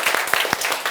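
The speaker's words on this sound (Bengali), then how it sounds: "ওদের সবার জন্য একটা জোরে করতালি দিই আমরা।" Classroom applause from primary school pupils after a group poetry recitation, a brief burst of many hands clapping fairly loud with a few sharper individual claps standing out.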